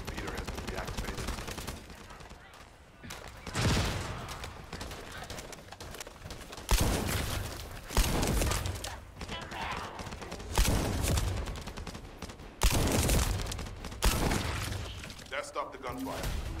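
Gunfire in the video game The First Descendant: repeated loud bursts of shots at intervals of a few seconds, with a dense crackling battle din and voices in between.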